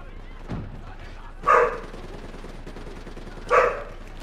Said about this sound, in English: I don't know why my dog is barking, but she's barking.